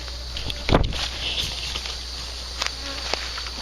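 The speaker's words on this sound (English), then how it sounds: "Oh, I just pissed off a bee." An angry bee buzzes around a metal detectorist outdoors in Georgia, a thin, close insect drone that swells as it passes near, with a brief loud rustle early on.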